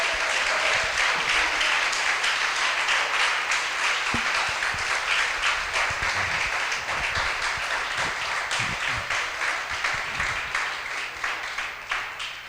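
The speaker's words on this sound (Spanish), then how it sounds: "Fuerte ese aplauso a Jesús." A church congregation keeps applauding for over twelve seconds, thick sustained clapping with a few low thumps and murmurs underneath, gradually thinning out toward the end.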